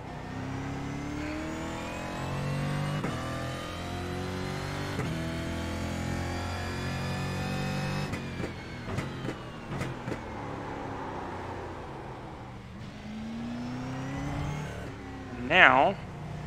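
A Brazilian Stock Car engine in iRacing drones steadily and rises in pitch through the revs, staying loud and close throughout, with a few gear-change dips and a brief spike near the end.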